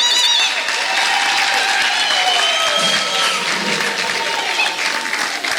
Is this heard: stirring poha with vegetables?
no